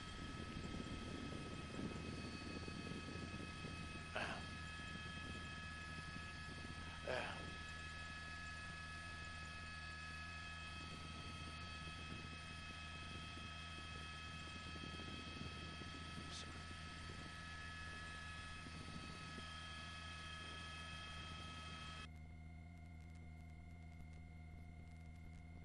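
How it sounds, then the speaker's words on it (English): A helicopter flies above a 2018 police chase of a stolen Bentley, its rotor and engine making a steady, even drone that holds for the whole stretch, with a couple of brief faint tones over it. "We're going to swing this helicopter around a little bit."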